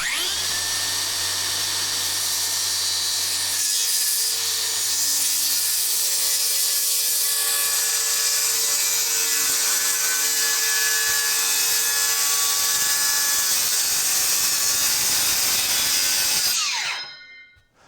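Power saw cutting steadily through wooden girts on an existing pole barn, a loud continuous high whine and grinding rasp lasting many seconds before abruptly stopping, close up with no talking.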